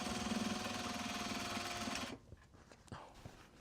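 A sewing machine runs steadily for about two seconds, stitching down the folded-under edges of Japanese fabric for a box bag. Then it stops, leaving faint handling clicks and rustles.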